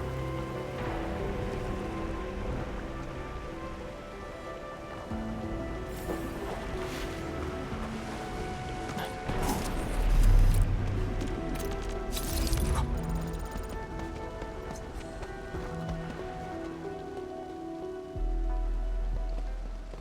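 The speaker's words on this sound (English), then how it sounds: "It's raining harder. I can't hear anything except for the rain." Heavy rain in the video game Arknights Endfield, a dense continuous hiss of rainfall with scattered patters and a few low thumps and swells, no talk.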